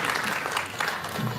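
Audience applause at the concluding ceremony of the Pune International Film Festival, a dense, steady wash of clapping that fills the short stretch at moderate volume.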